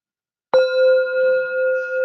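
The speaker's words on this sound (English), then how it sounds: "Taking a breath with each tap of the bell" A meditation bell is tapped once, ringing with a clear sustained tone that hangs steadily and evenly, close and alone in a quiet room.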